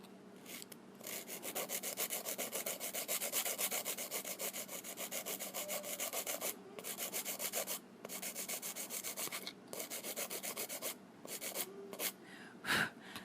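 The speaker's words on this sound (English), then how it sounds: "And then filing the free edge." A nail file scrapes across the free edge of an acrylic nail in rapid, rhythmic back-and-forth strokes, close and crisp, broken by a few short pauses.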